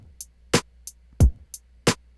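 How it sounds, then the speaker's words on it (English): Drum beat programmed in Pro Tools, with eighth-note hi-hats ticking between kick and snare hits; crisp, close, evenly spaced sharp hits alternating with a deeper thump, played alone without any voice. "having those extra hi-hats really kind of moves the beat forward a little bit with energy"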